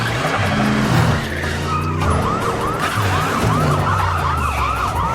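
Police car chase in an animated film: a loud, near wailing siren rises and falls repeatedly over the engine roar and tire noise of the speeding car.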